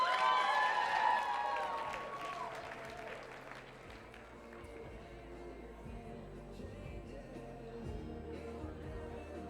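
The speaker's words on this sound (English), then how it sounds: "So I want you to give them all a huge round of applause" Audience applause at a poetry night, loud at first with cheering, then thinning into scattered clapping and murmurs across the room.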